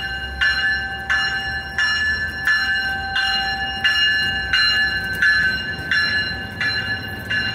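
A passenger train's bell clangs in a steady, regular rhythm, ringing out clearly about every half second over a low rumble of rail movement, an out-of-service Amtrak San Joaquin train heading to the Oakland yard.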